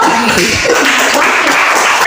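Classroom applause for a student's answer about Mount Sinabung, a dense, steady patter of many hands clapping together, close and loud for a couple of seconds with no talk over it.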